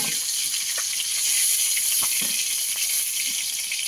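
Shrimp frying in hot oil gives a steady, bright hiss and crackle, continuous and close, with a few soft pops scattered through it and no voices.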